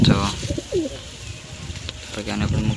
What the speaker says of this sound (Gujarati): અહીં મિત્રો અહીંયા કબૂતર છે